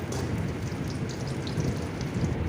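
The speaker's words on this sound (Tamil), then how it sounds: "அடுப்பில் கடாயை வச்சு எண்ணெய் விட்டு சின்ன வெங்காயம்" Small onions fry in hot oil in a kadai, giving a steady, close crackling sizzle like light rain that carries evenly throughout without any voices.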